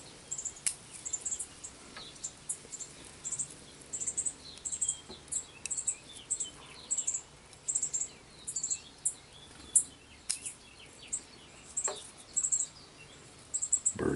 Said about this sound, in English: Birds are having a nest out here, and they don't like me being out here.